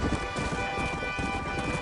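A horse gallops in the video game Red Dead Redemption, giving quick rhythmic hoofbeats over a steady, tonal game backdrop.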